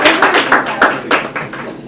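Audience applause at an EAA Chapter 4 aviation banquet, a close, loud run of irregular hand claps from a small group lasting the whole stretch.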